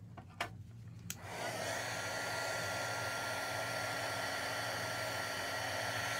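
A heat gun switches on after a couple of light clicks and blows steadily, a loud, even rushing hiss held close by for several seconds with no talking.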